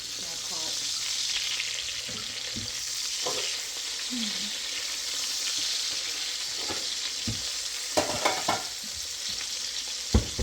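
Cubed steak, chicken-fried, sizzles steadily in a pan with a bright, continuous frying hiss, broken by a few sharp clinks and stirring knocks.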